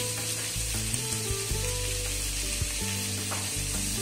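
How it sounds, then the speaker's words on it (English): Green chili and onions frying in a pan, a dense steady sizzle under a loud sustained tonal hum with some low stepped tones, close and constant for a few seconds. "and we'll fry this up nicely first"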